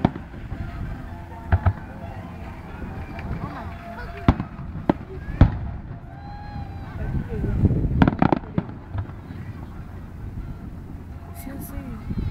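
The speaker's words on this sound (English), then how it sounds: "Fireworks down there still." Fireworks pop and crack at a distance, several sharp bangs scattered over a noisy background while people talk nearby.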